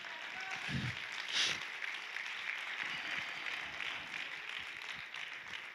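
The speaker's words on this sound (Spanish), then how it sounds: "porque sin dar la explicación ya aplaudieron" A church congregation applauds during a sermon, steady broad clapping that fills the room at moderate loudness from start to finish, with a brief louder swell early on.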